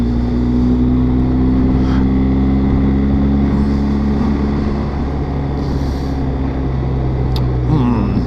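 A campervan passes a BMW GSA motorcycle on a Welsh road, a steady loud engine and road rumble with continuous wind noise throughout, no clear rise or fade of the passing vehicle.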